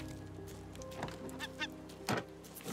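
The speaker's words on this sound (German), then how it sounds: "Ich höre eine Möwe." A seagull in the survival video game Raft gives a few short, honking calls at moderate distance, spaced irregularly over a faint steady background hum.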